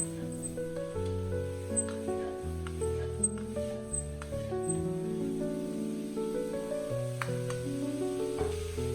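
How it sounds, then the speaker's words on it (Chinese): Beef stir-fried in a wok with Huadiao wine for braised beef with potatoes gives a steady hiss and sizzle, partly buried under continuous background music. "炒牛肉我们最好加入花雕酒或者是白酒，再次翻炒均匀，充分的把牛肉的腥味炒出来"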